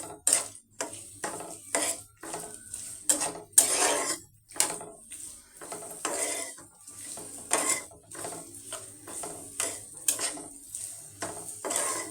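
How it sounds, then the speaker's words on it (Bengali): A spatula scrapes and stirs onions frying in a pan with white cardamom for a jackfruit and meat dish, in repeated clattering strokes with short pauses between them. No one speaks. "দিয়ে দিব সাথে কিছুটা পেঁয়াজ এবার এটাকে ভেজে নেব"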